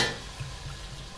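A spoon stirs turmeric into a curry mixture, making soft scraping strokes over a low, steady sizzle, quiet and close with a few gentle repeated swishes.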